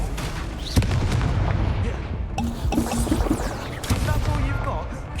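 Fiery Confringo spell blasts in the Hogwarts Legacy video game, loud booming bursts over dense game sound, with a short tonal chime partway through.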